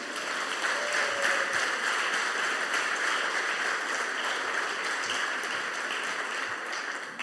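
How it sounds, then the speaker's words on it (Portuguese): A church congregation applauding together in a steady, dense wash of clapping that holds loud and even for several seconds, with faint voices mixed in underneath. "Você pode aplaudir o Senhor?"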